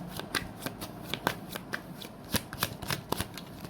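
Tarot cards shuffled by hand, a quick series of crisp riffling flicks and slaps close up, repeating irregularly with no talk.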